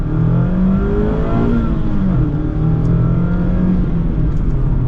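A Mazda Miata engine revs steadily and loudly, climbing in pitch as it accelerates hard, with constant road and wind roar underneath.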